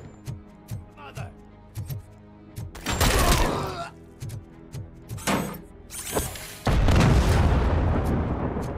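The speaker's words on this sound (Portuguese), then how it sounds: "Toma essa explosão aí na sua fuça." Explosions in the video game Robocop: Rogue City boom loudly twice, with crackling debris and rumble, amid rapid thuds and pops while a voice talks throughout.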